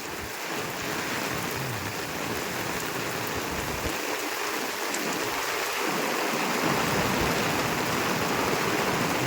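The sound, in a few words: heavy rain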